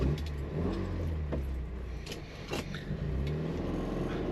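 An Alfa Romeo Alfetta twin-cam engine idles and revs up and down close by, a steady mechanical rumble with a few sharp clicks and knocks.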